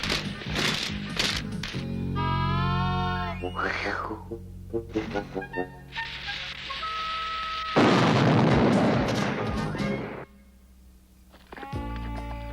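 Dynamite blast in a cartoon-style scene: a loud, broad roaring burst about two-thirds of the way through that holds for a couple of seconds. It follows voices and music and fades into quieter sound.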